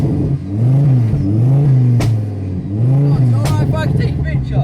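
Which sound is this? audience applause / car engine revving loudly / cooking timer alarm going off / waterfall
car engine revving loudly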